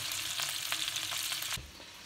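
Chicken drumsticks for poulet yassa fry over medium heat, a close steady sizzle with soft stirring touches that drops suddenly to a quieter hiss near the end.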